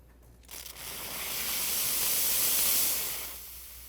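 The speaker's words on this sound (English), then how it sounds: "The dress fit nozzle delivers a concentrated burst of steam" A ProSeries 360 steam cleaner fires a concentrated burst of steam from its dress-fit nozzle, a loud broadband hiss that swells after a brief start, holds for a few seconds and then tapers, with no talking.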